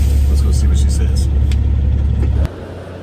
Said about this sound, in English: I'm gonna move my truck up a little bit so it's quieter.